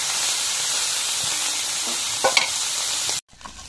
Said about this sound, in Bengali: এখন মাছ ভাজি হয়ে গেছে, এখন তুলে নিই।